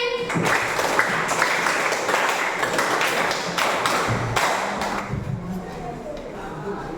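Children in a classroom clap their hands in short counted bursts, a run of sharp claps close by mixed with a teacher's and children's voices talking over them.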